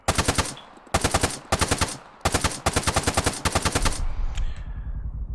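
Full-auto weapon fire in the Arma 3 video game: several rapid, loud bursts of closely spaced shots with brief gaps between them, ending in a lingering echoing tail.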